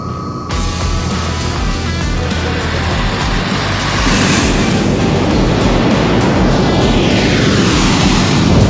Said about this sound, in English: heavy lift transport aircraft taking off back to their home base. First, it's the American C-17s.